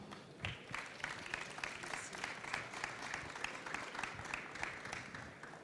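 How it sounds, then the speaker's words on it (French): Audience applause closing a conference talk on passive and active building façades: steady, dense clapping from a crowd that fills the whole stretch at an even level, slightly distant and reverberant. "Vous pouvez les applaudir."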